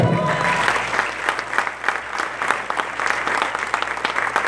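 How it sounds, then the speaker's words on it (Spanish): Audience applause at an award ceremony honoring a jarana career, a strong wave of many people clapping with distinct individual claps showing through, holding steady at moderate distance. "Fuerte el aplauso"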